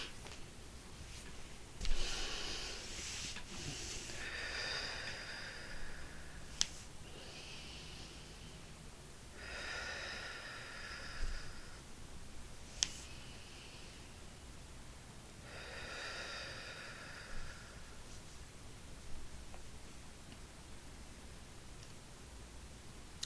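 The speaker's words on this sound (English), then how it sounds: "3 deep breaths." Three slow, deep breaths, each a long soft rush of air drawn in and let out, separated by quiet pauses, with faint clicks and rustles in between.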